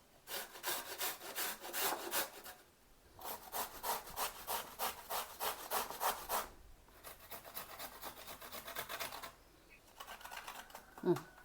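Fresh gooseberries are rubbed across a kitchen grater in steady rhythmic bursts of rasping scrapes, close and fairly loud, pausing briefly between runs.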